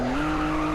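Tire skid from a drifting BMW M2 in Roblox Greenville, a brief steady squeal with engine hum underneath, close and continuous.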